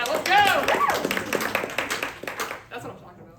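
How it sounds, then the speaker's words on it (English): An audience in a library claps together in a short burst of applause that quickly thins to scattered claps and fades, with a voice speaking over the start. "You guys gotta clap better."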